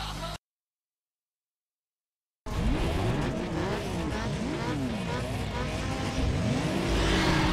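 Race car engine roaring in Need for Speed Underground 2 on a circuit, with rising and falling revs and repeated sweeping tire squeals through corners, loud and continuous after a brief silent gap.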